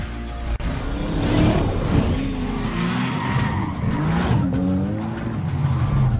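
Nissan Skyline racing in Need for Speed Payback, engine roaring hard with sweeping rev changes and tire squeal through drifts, loud and continuous with other cars in the mix.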